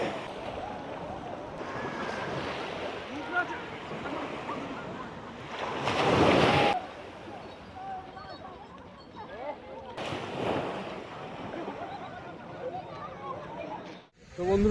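Sea waves wash in at Gangasagar, where the Ganges meets the Bay of Bengal, a steady surf with a few louder swells and wind buffeting the microphone, while voices talk over it.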